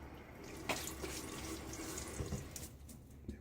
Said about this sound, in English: All right, splash a little water.